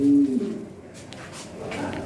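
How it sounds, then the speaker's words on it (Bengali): Lahori Sirazi pigeons give a low cooing call at the start, followed by faint, softer bird sounds against background noise. "হ্যাঁ দেখেন কবুতর"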